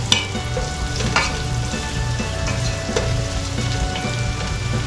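Garlic fries in a hot pan, a dense steady sizzle with crackling spits and a few sharp scraping stirs, close and loud, no talk.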